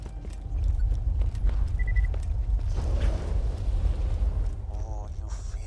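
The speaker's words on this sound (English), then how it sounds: "The sound of those earthquakes marks my drills getting closer and closer to the vault." Deep rumbling earthquake shake in the video game Borderlands 2, caused by drilling, a continuous low roar under faint game effects.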